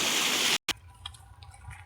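A loud, steady rush of water pouring from the pipe of a well pump motor, cut off abruptly, then faint drips and quiet background.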